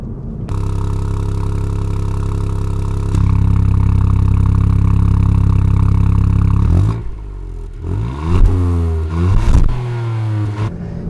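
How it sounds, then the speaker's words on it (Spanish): A Ford Puma ST in Sport mode with its exhaust valve open holds a loud, steady rev, then climbs higher before dropping and blipping through several sharp rises and falls, close and dominant with no talk. "el modo Sport, que tiene su botón aparte y además cambia sonido porque es el que abre la válvula de escape"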